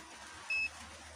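A digital multimeter's continuity buzzer gives one short, clean beep during checks on a TV board with a no-power fault, standing out briefly against faint background hiss.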